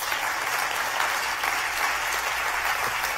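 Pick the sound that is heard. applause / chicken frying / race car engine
applause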